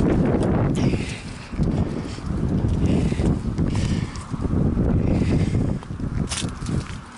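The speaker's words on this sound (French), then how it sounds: "Ah, il y a du vent quand même." Strong gusty wind buffets the microphone in loud rumbling waves, rising and falling over several seconds outdoors.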